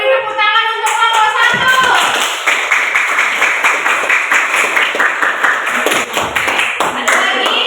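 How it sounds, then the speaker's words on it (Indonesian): Students in a classroom clap for a student group, starting just after a teacher's voice and settling into brisk, fairly rhythmic clapping close to the listener. "Ayo beri tepuk tangan untuk kelompok"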